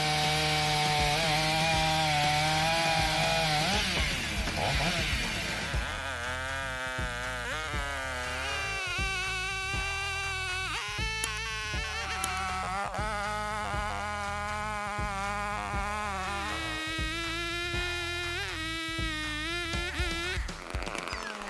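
A Husky 572 XP chainsaw cuts through timber, its engine whining and shifting pitch as it bites into the wood, steady and moderately loud throughout with no voices.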